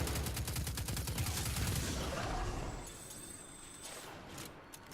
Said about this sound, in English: Okay, I hear gunfire.